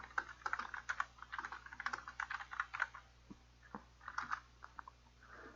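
Close, quiet typing on a computer keyboard, quick irregular bursts of key clicks with short pauses between them, no one talking.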